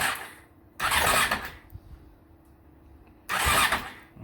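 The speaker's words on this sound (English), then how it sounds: "now I'm just going to crank the engine over, and it's going to release all the fuel that's stuck in that cylinder" Honda CBR600 F3 motorcycle engine cranking with the spark plugs removed, two loud whirring bursts of the starter separated by a quieter pause, close to the microphone.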